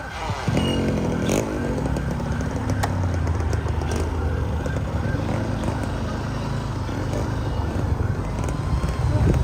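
A Yamaha motorcycle rides past amid wind buffeting, its engine rumbling steadily and fairly near for several seconds against a busy outdoor background of wind noise.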